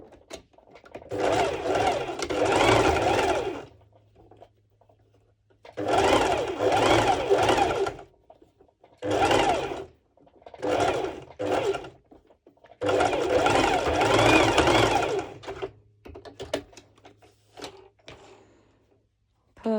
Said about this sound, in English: And I will be doing a straight stitch on the other side.